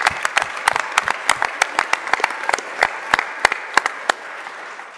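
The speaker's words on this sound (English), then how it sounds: "let's give them a round of applause" An audience applauds at a city council meeting, with a burst of crisp, rapid clapping from a modest crowd that fades out after about four seconds.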